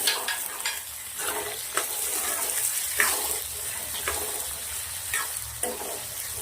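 Bottle gourd and tomato sizzle in a hot pan with hing and garlic, frying steadily while a spoon stirs and scrapes in repeated strokes, close and continuous without speech.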